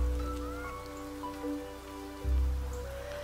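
Rain falls steadily in the survival game Niche, a soft continuous patter on surfaces under a low ambient game hum, with a brief low thump near the end.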